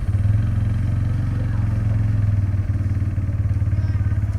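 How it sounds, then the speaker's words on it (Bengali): A Bajaj Pulsar N150 motorcycle engine running just after a cold start, a loud, steady low-pitched throb that holds evenly close by with a brief dip partway through. "ইঞ্জিন ঠান্ডা ছিল বলে কোল্ড স্টার্টেতে সাউন্ডটা জাস্ট অসাম"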